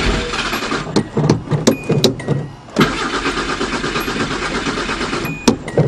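A 1983 Datsun Pulsar with a carbureted engine cranks on its first start of the summer, with a loud, rhythmic starter churn and sputtering, broken by a short pause.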